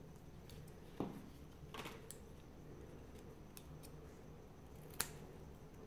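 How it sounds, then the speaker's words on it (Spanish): Scissors snip the ends of a ribbon being shaped into a small bow for a pine cone ornament. A few sharp, separate cuts are scattered across a quiet background, and the last one is the loudest. "Cortamos las puntas de esta manera, doblando el listón por la mitad. Y hacemos un corte a las orillas."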